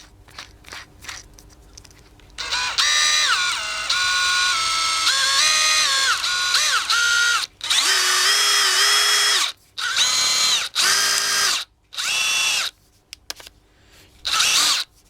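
A Dewalt DCD777 cordless drill with a WEIDA-brand replacement chuck runs in loud whining bursts: one long run, then several short on-off pulses with pitch shifts as the clutch is tested, alone without talk.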